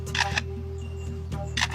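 A bird mimics a camera shutter: crisp mechanical click bursts in two quick clusters, one near the start and one near the end, with quiet background between them and no speech.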